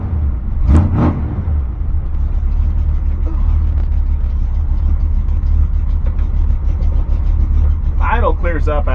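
A cold Chevy C10 with a 454 big-block V8 idles with a loud, steady low rumble, a choppy running note throughout, with someone speaking briefly over it near the start and again near the end.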